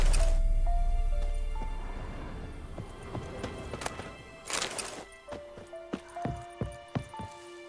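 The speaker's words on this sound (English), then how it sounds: "That's his horse." Horse in The Witcher 3: Wild Hunt video game, with a whinny near the start, a rustling snort mid-clip, then a regular series of close hoof clip-clops on the ground, accompanied by soft tonal music notes.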